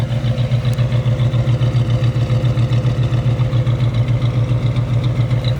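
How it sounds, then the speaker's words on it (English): A car's exhaust idles close by with a steady, even rumble, a low pulsing throb repeating rapidly and evenly with no talk over it. "It's got a nice rumble, nice little rumble to that idle."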